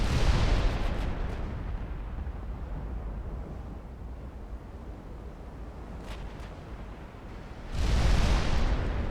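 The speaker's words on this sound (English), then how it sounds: "They're returning fire." Heavy naval gunfire in a video game dreadnought battle: a dense, continuous rumble of distant big-gun salvos and explosions, with a loud close burst of fire near the end.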